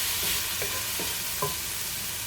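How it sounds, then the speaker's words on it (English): Onions sizzle and fry in a pan, giving a loud, steady crackling hiss with a few soft stirring scrapes and no voices. "So as the onions are sweating out a little bit, they're cooking down, they're starting to turn slightly translucent."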